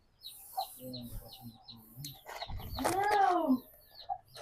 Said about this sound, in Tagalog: Ano yun, may pumasok na manok?